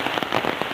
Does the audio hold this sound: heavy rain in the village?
yes